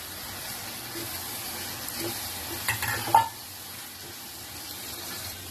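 Sprouted val beans tipped into a hot pan of oil for a vegetable dish give a steady, moderate frying sizzle, with a brief louder burst and some clatter of stirring partway through.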